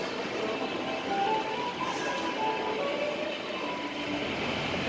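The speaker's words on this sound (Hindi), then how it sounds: "तो कल इधर से ट्रेन आएगी देखो अपने पास" A train rolls along a rail line near a mall in Palava city, a steady, fairly distant rumble with faint wheel squeal and no voices.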